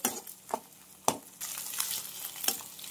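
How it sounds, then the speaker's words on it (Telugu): Chicken and eggs frying in oil while being stirred, a soft crackling sizzle broken by several sharp scrapes of a spatula against the pan, close and fairly quiet. "ఈ చికెన్ తీసాను కదా, అదే ఆయిల్లో అయితే నేను రోస్ట్ చేసుకుంటున్నాను."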